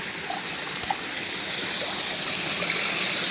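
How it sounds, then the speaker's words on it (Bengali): Floodwater pours steadily into a neighbouring house during monsoon flooding, a continuous broad rushing wash like a stream, close and fairly loud, with no talking over it. "ওদের বাড়িতে প্রচণ্ড পরিমাণে জল ঢুকে গেছে।"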